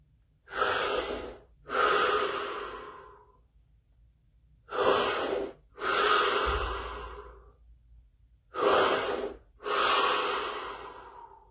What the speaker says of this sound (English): 3 deep breaths, followed by absolute stillness and silence.